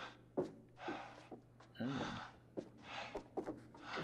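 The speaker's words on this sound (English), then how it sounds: "Why is Charles breathing so fucking loud?" Heavy, loud breathing from the character Charles in the horror video game The Devil in Me, with repeated gasps and exhalations over a steady low hum, and a voice talking through parts of it.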